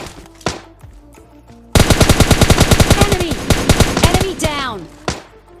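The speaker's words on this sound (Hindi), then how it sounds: "ये वाला बॉट किसी पे फायर कर रहा है" Rapid automatic gunfire from a bot in the battle royale game PUBG Mobile Lite: a loud, close, evenly spaced stream of shots running nearly three seconds, bracketed by a few single shots and metallic ringing sounds.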